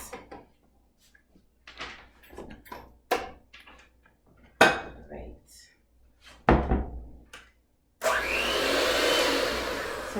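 An electric mixer mixing vanilla cake batter starts up after a series of kitchen knocks and thumps, then runs as a steady, loud whirring hum for the final couple of seconds.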